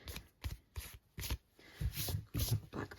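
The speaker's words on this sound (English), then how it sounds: "And I'm just folding that fairly loosely." Designer series paper strip, 1 inch by 12 inches, being folded loosely by hand for a square corner pop-up card, giving a run of soft, close crinkling and rustling bursts with short pauses between them.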